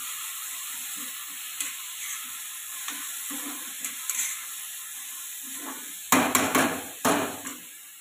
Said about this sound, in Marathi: ह्याच्यामध्ये ही आपण आता भाजून घेतलेली कडवंची घालायची सगळी, आणि चांगलं हलवून घ्यायची.